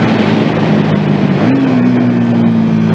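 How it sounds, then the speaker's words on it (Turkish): A Bajaj Dominar motorcycle engine roars loud and close on a race track, holding a steady drone that shifts up in pitch midway, with heavy wind rush over the microphone. "Çünkü motorun sesini de duymak istedim"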